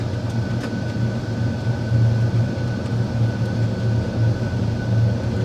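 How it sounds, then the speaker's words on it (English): Cathay Pacific airliner using reverse thrust on landing, a loud steady roaring rush with a low droning hum heard from inside, no speech. "That's reverse thrust now going."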